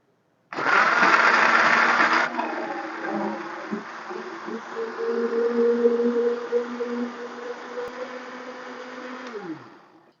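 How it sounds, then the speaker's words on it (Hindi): A kitchen blender whirs through raw mango and half a cup of water, starting with a loud, harsh burst and then settling into a steady motor whine that drops in pitch as it shuts off near the end. "हाफ कप मैंने इसमें पानी शामिल किया, इसको ब्लेंड करेंगे।"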